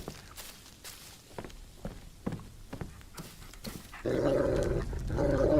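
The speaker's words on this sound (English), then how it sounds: "That's nerve-wracking when the dog starts growling or barking at something that you can't see" A dog in the Blair Witch horror game growls and barks, with scattered footstep thuds early on, followed by a louder sustained snarl that builds toward the end.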